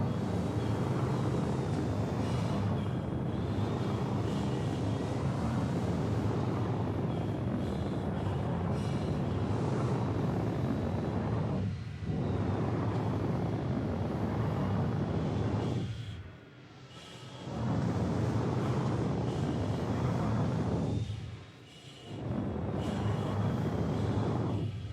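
Steady, loud roar of an aircraft in flight in a video game, continuing for a long stretch with a few brief dips in level.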